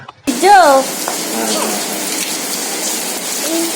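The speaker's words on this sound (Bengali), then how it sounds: "প্রচণ্ড মুসলধারে বৃষ্টি এসে গেছে" Steady heavy rain hisses throughout, with a voice speaking over it near the start.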